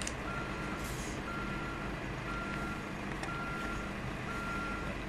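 Reversing beeps from a B-triple road train in Euro Truck Simulator 2, a steady electronic tone repeating over continuous truck engine rumble and road noise throughout.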